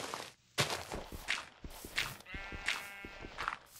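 A sheep bleats in a blocky sandbox video game while footsteps and digging taps sound, short repeated bleats close by among clicking steps.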